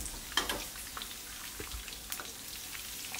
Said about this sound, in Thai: ก็ลดไฟลงนิดนึงนะครับแล้วก็ทอดนานกว่าเดิมเล็กน้อย